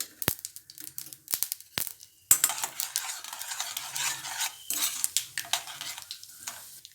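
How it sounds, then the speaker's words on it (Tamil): Mustard seeds and urad dal crackle and sizzle in hot oil while tempering tiffin sambar, with sharp popping bursts over a steady frying hiss, close and fairly loud, plus occasional stirring and utensil clinks. "சீரகம்லாம் பொரிஞ்சிச்சு"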